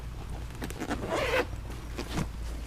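A zipper is pulled open on the expansion compartment of a Topeak MTX TrunkBag DXP bicycle trunk bag, giving a quick close rasp that swells in the middle and then trails off into small handling rustles.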